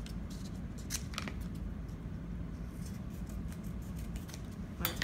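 Scissors snip and trim through hinging material in a few quick, light cuts over a steady low background rumble, with no talking.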